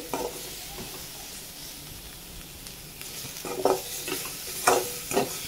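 Paneer salad ingredients fry in a pan, giving a soft continuous sizzle that swells into louder bursts of stirring and crackle toward the end, with no talk.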